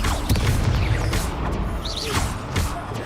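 Spell explosions in the Hogwarts Legacy video game on PC, giving dense overlapping booms, crashes and whooshes in rapid succession over a noisy, busy combat soundscape.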